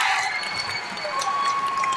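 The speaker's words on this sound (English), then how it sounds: "The crowd is helping them. They're getting behind them as we get closer to this last quarter" Crowd at a high school boys basketball game between Vineland and Millville cheers for Vineland, a steady, dense roar of voices filling the gym without a break, with a few higher shouts rising over it.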